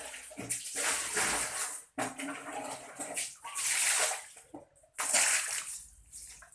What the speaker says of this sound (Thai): ขอไฟนิดหนึ่งกล้องอาจจะเปียกนิดหนึ่ง เราล้างด้านบนแล้วก็ออกมาครับ